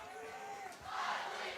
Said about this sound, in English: And the crowd here getting very hyped for our win.